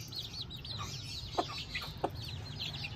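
A desi hen clucks softly and intermittently near her chicks, whose high, rapid peeping runs continuously throughout, close by in a quiet outdoor setting.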